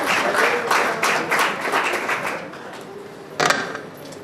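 Seminar audience applauding loudly to welcome a school principal to the stage, a dense burst of clapping that thins out and fades, followed by a single sharp knock or clatter near the end.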